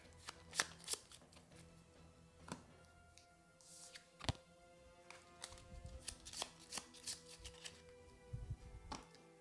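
Duel of Wands playing cards are shuffled in quick riffling bursts and soft taps, close up and fairly quiet, with short pauses between handfuls.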